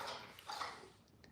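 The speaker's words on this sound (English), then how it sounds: "Excuse me, that's my dog in the background." A dog barks and yips briefly in the background of an indoor space, a few short bursts at modest volume.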